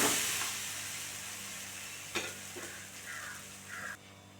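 Lentil dosa frying in sesame oil on a pan, giving a steady close sizzle with a few soft clinks and brief hissy bursts, then dropping away near the end.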